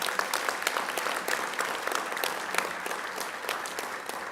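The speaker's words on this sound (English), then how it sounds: "let's give another round of applause to Sarah" An audience at an international convocation claps in a steady round of applause, with a few distinct claps popping out of the dense wash at moderate loudness.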